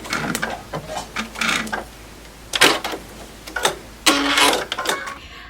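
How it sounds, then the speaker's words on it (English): Sewing machine stitching a line across a log cabin quilt block, ending with a tiny back stitch: short, close bursts of mechanical whirring and ticking separated by pauses, with quiet handling noises between runs. "so we just sewed this line right under the 3"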